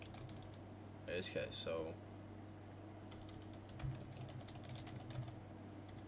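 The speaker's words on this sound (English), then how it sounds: "sorry if it sounds like I'm spam typing." Rapid, clattering computer keystrokes in bursts at a trading desk, fairly faint against a steady background hum, with a person speaking briefly.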